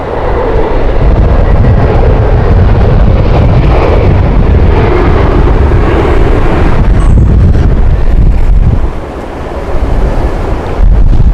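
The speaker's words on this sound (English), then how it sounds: "Well, this might be interesting in the current wind conditions." Strong wind at Heathrow Airport roars loudly into the microphone in heavy, continuous buffeting gusts, dropping briefly before surging back.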